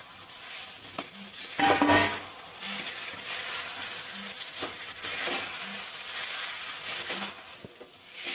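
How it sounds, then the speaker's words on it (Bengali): Fried pointed gourd (potol) being stirred into spiced oil in a pan: a low sizzle under regular scraping and clinking stirs, with a louder clatter early on and no voices. "এবার আমি পটল ভাজাটা দিয়ে দেব, দিয়ে কষতে থাকবো।"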